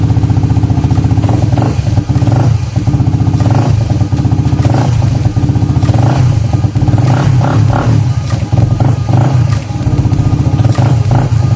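A fuel-injected motorcycle, 44,000 km on the clock and freshly fitted with a cleaned throttle body, runs loud and close, its steady rumble broken by a few brief throttle blips and some mechanical clatter.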